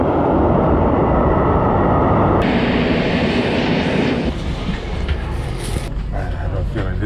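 Steady, loud rumbling and rattling of a moving train in Poland, heard from onboard, with a shift in tone partway through and faint higher squeals near the end.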